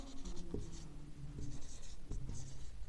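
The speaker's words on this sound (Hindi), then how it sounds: "वॉल्यूम लिखेंगे।" Marker or chalk strokes on a board during a class 8 maths lesson on volume, a string of short scratchy taps and squeaks in quick bursts, close and moderately loud, with no talk.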